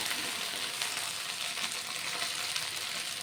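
Basmati rice and rajma for pulao sautéing in ghee, a steady broadband sizzle and crackle that holds evenly throughout with no voices.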